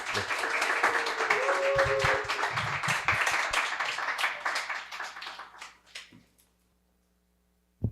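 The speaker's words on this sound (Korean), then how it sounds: "큰 박수로 환영해 주십시오" Applause from a church congregation welcoming a pastor at a Friday evening service, dense clapping filling the hall for several seconds before thinning out and fading to silence, with a few voices mixed in.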